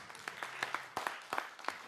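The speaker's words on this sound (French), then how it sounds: "Sous les applaudissements du public." A live-show audience at a French National Day song event gives light, scattered clapping, a handful of separate claps rather than a full ovation, fairly faint and distant.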